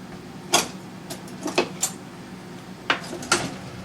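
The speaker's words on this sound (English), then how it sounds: "So let me grab my pan. And we'll try to flip this bad boy over." Pizza bread gets flipped with a pan in a home kitchen, heard as a handful of sharp metallic clanks and knocks scattered irregularly over a low background hum, fairly close and with no talking.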